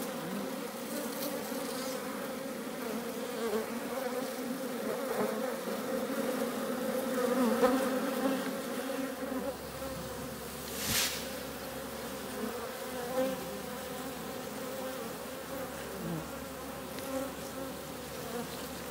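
Swarm of honey bees buzzing continuously around hive frames as they are shaken off during queen cell building, a dense, steady drone with no talk.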